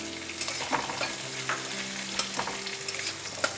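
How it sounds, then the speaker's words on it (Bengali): Green chilies frying in hot oil for a white egg korma, a dense close sizzle with quick clinking stirs of a spatula in the pan and a faint low hum beneath. "তিনটে লঙ্কা দিলাম দিয়ে এটাকে একটু নাড়তে হবে ভালো করে"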